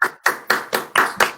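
At an online legal training conference, one pair of hands claps six times in a quick, even rhythm, sharp and close, with nothing else heard.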